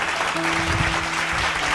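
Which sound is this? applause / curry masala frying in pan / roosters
applause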